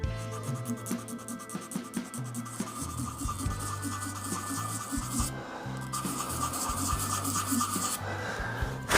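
Continuous raspy scraping of sandpaper worked back and forth by hand on a burl wood and resin shaving brush handle, rhythmic strokes running steadily, close and moderately quiet.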